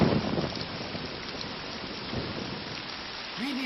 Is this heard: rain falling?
yes